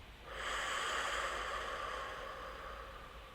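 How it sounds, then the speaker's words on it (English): Breathing exercise: a sustained airy breath swells in after a short pause, loud and close, then slowly tapers over a few seconds as a long mouth exhale, with no distinct separate nose inhales showing. "2 inhales through the nose. Long exhale through the mouth."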